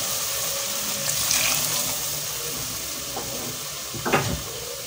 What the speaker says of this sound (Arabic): هنزل عليها الشوربه بتاعتي اللي انا عملتها بروس الجمبري اللي انا منضفاها